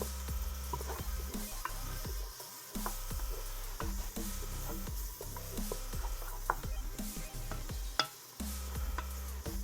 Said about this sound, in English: we're gonna saute these onions until they just basically translucent and soft